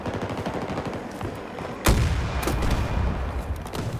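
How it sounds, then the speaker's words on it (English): A helicopter blown up in Battlefield 2042: steady gunfire rattles throughout, then a sudden loud blast erupts midway and rumbles on beneath continued shooting. "whilst I blow up this helo"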